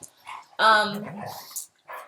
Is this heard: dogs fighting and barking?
yes